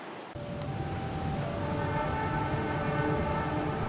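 The Argo Parahyangan passenger train passes nearby with a steady, loud rumble of wheels and carriages rolling continuously, without a break.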